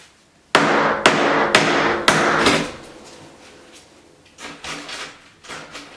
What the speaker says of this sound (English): I'm going to try to use this little hammer.